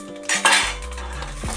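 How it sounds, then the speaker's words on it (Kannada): Whole spices such as bay leaf, stone flower and star anise hit hot oil for egg biryani, with a clatter of a metal spoon against the pan and a brief stir. "ಎಣ್ಣೆ ಕಾದ್ಮೇಲೆ ಇದೆಲ್ಲ ಒಟ್ಟಿಗೆ ಹಾಕ್ಕೊಳ್ಳೋಣ"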